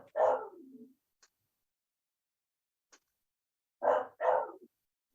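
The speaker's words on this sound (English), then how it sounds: "Can hear a dog barking." A dog barks once, then twice in quick succession a few seconds later, distinct sharp barks in otherwise quiet surroundings.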